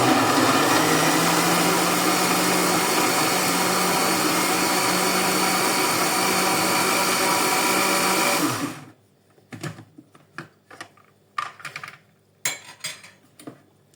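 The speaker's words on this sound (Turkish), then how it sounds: "Blender'ı çalıştırabilirsiniz." A blender blending blueberries and water roars loudly and steadily for about nine seconds, then cuts off, leaving a few scattered clinks and small handling noises.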